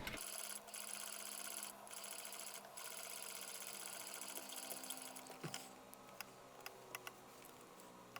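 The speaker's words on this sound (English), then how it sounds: "From the underside of the pant leg, stitch again exactly over both rows of stitching, reinforcing several times at the top." A sewing machine stitches over both rows of stitching on the underside of a pant leg for an early TNG Star Trek costume, running as a steady continuous whir for about five seconds before breaking into short intermittent bursts and ticks.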